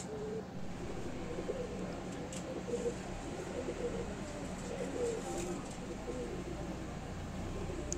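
Andhra Madrasi pigeons coo repeatedly in a low, steady murmur, several birds overlapping close by over a constant background hum.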